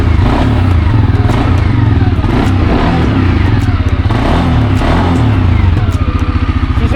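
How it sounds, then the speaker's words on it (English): Four-wheel-drive quad ATV with an aftermarket exhaust, engine warmed up and revved: loud, close, throaty engine note rising and falling through a couple of revs, with a steady pulsing idle underneath and no talking. "I'll give her a couple revs now that she's warmed up."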